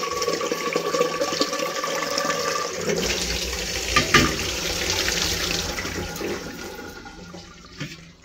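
Tap water runs steadily into a sink while a pressure cooker used for cooking rice is rinsed, a continuous close splashing rush with a few clanks near the middle and fading toward the end, with no talking.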